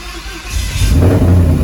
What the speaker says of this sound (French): on va essayer de démarrer la voiture